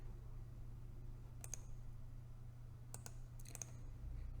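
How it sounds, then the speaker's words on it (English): Mouse clicks on a link in an online course page, a few sharp light clicks in pairs and small clusters over a steady low hum, close and quiet, with no talking. "So I want you to click this link."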